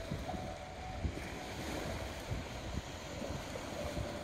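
Ocean waves washing in and receding on a shore, a soft continuous surf wash with wind noise, fairly faint and steady without voices.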